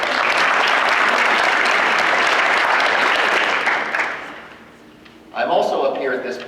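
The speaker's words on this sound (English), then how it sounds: "give her a round of applause" Audience applause at a Quill & Scroll awards ceremony, a full, sustained burst of clapping that tapers off, followed by a person speaking into a microphone.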